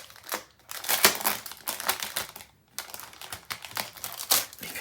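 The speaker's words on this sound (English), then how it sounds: "So I'm going to open up another package of tape here real quick." Crinkly plastic packaging of craft tape being torn and opened up close, a dense run of crackling, rustling bursts with brief pauses, loud and alone.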